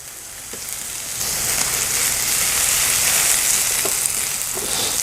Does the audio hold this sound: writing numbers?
no